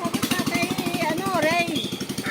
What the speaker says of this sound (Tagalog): Motor ng bangka yan